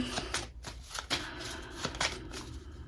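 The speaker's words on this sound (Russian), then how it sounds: "Тасуем карты." Playing cards being shuffled during a tabletop card ritual, a series of riffling and riffle-bridge bursts in fairly quick succession, close and clear, with no talking.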